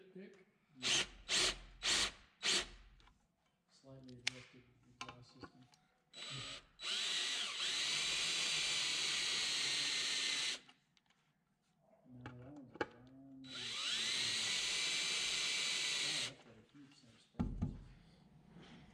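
A power drill with a spot-weld bit runs in two long, steady high-pitched bursts, drilling out spot welds in metal, with shorter drill bursts and clanking tool handling in between.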